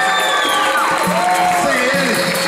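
At a capoeira group event in Recife, a crowd cheers and claps with whoops and high shouts rising over steady broadband clapping noise, filling the short stretch throughout.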